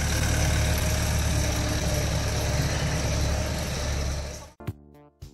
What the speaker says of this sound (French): attelée sur un tracteur de 80 chevaux